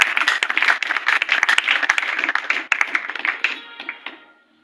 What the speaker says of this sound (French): Applaudis d'abord fortement pour la gloire de Dieu.